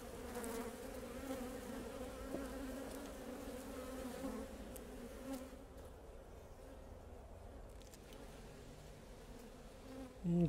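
Honeybees buzzing around an open hive during a queen introduction, a steady close hum of many bees with shifting pitch, fairly quiet and continuous, with no voices.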